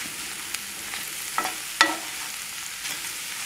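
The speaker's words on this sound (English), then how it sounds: "Saute this until it's translucent" Something sautés in a pan until translucent, giving a soft steady sizzle with a few faint clicks and scrapes from stirring, quiet and close, with no talking.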